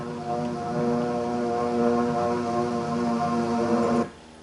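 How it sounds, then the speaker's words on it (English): Propeller aircraft droning steadily at dawn over Honolulu harbor on December 7, 1941, a sustained even engine hum with strong tonal layers that holds level for about four seconds and then cuts off abruptly. "the drone of planes was faintly heard"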